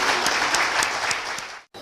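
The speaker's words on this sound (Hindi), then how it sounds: "Mister KM. रफीक जी को जोरदार तालियों से स्वागत कीजिए।" Audience at a company meeting gives a strong burst of applause to welcome a speaker, dense and even for well over a second before breaking off abruptly and resuming briefly.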